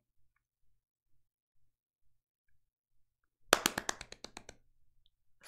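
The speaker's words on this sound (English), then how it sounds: "Oh, that was such an excited clap." An excited burst of rapid hand clapping from the anime Kaguya-sama: Love is War, about a dozen quick claps in a row after near silence, ending in a few fading taps.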